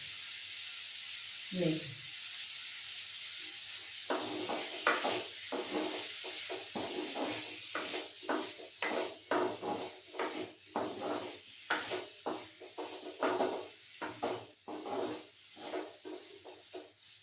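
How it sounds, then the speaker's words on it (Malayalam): Bilimbi and green chili pickle being stirred in a pan, a steady series of scraping spoon strokes against the metal with a soft sizzle underneath, close and moderately loud, with a voice speaking in between. "ഇങ്ങനെ ഇളക്കി കൊടുക്കുന്നത് എന്തെന്നറിയാം, എല്ലാ വശങ്ങളും ഒന്ന് ഇത് വെന്ത് വരാൻ വേണ്ടിയിട്ടാണ്"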